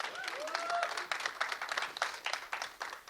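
A studio audience at a Punjabi film cast event claps, scattered, moderately quiet applause with uneven individual claps, and a brief tonal whoop or whistle near the start.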